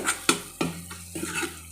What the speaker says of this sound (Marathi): हे छान व्यवस्थित असं मिक्स करून घ्यायचं आहे